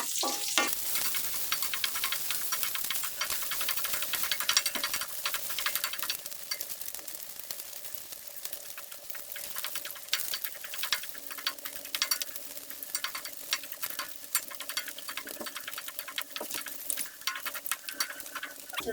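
Pork sizzles and fries in its own rendered fat for humba, a steady close crackle and spatter with stirring scrapes running throughout, no voices.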